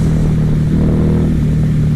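A 2016 Harley-Davidson Night Rod revs hard in second gear, its engine roaring loud and close in a sustained, steady drone with no voices over it.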